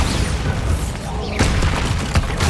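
A Bombarda spell blasts in Hogwarts Legacy, a loud booming explosion with crashing debris amid ongoing combat noise, followed by further sharp thumps and impacts.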